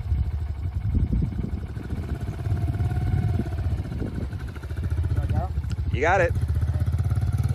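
A kid's dirt bike idles and revs lightly as a young beginner rides for the first time, a steady low engine drone that rises briefly near the end, with a voice speaking over it.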